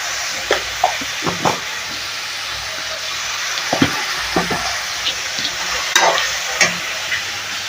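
Cut tomatoes frying in a pan for egg thokku, stirred with a spoon: a steady close sizzle with repeated scraping knocks and stirring bursts at an uneven rhythm, no voices.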